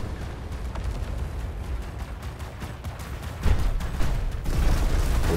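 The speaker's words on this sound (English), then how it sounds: "Look at all these explosions." Explosions and weapon fire in the War Robots robot battle video game come as dense rumbling booms and crackling bursts, with a louder blast partway through.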